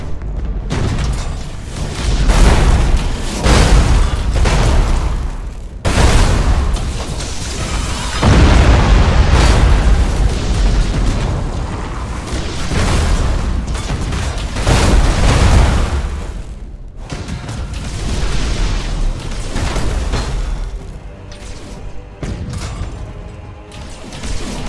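Heavy explosions and cannon fire as an enemy flagship is destroyed in the video game Battlefleet Gothic Armada 2: deep, rumbling booms roll one after another at a loud, steady level, with short quieter gaps between the blasts.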